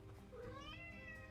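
A pet cat gives a single drawn-out meow with a rising then falling pitch, close and moderately loud over a quiet room background.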